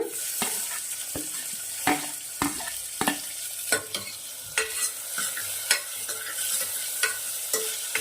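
Onions frying in a pan with ginger and garlic while making goat trotters soup: a steady close sizzle with repeated sharp spoon-stirring scrapes at a regular rhythm, no voices.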